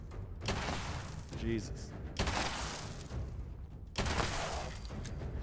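Loud, sharp sniper rifle shots in the video game Fallout 76, three heavy blasts spaced about two seconds apart, each with a long noisy tail. A voice briefly exclaims between them.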